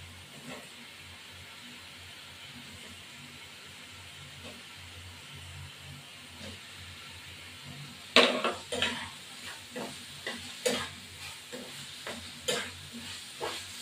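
Potatoes frying in a pan for a Bengali dhokar dalna: a steady sizzle, then repeated clattering scrapes of a spoon stirring them against the pan.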